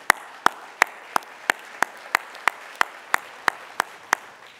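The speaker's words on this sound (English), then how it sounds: "we thank the panel with a huge applause for their very important contribution to the Congress" Audience at the 4th ITUC World Congress plenary session, December 2018, clapping together in a steady unison rhythm: about a dozen sharp, evenly spaced claps heard fairly close, with no talking over them.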